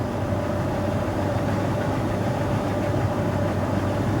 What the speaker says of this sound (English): Waiting for it to idle down.